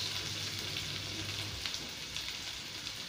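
Chopped onions with cardamom, cloves, black peppercrokn and bay leaves frying in hot oil, a steady close sizzle with a brief low hum early on, no voices.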